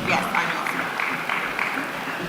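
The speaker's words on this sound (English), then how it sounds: "Please a round of applause for him." Audience at the AGE Lagos 2025 gaming-industry conference gives a brief burst of steady, dense clapping, moderately loud and continuous over the short span.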